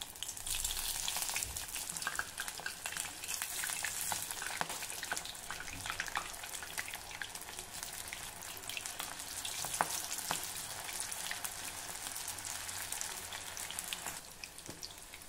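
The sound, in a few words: sweet corn bhaji frying in hot oil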